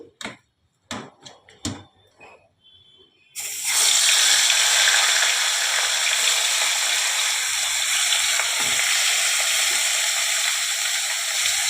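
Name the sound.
fish heads frying in hot oil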